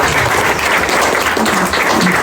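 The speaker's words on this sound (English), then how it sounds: "I want a big round of applause for all of them and for Mr. Akhtar Chaudhary for moderating" Audience applause at a Kashmir solidarity day panel event at the Pakistani embassy in Oslo, a dense steady round of clapping filling the room for the whole stretch, loud and continuous with no voices on top.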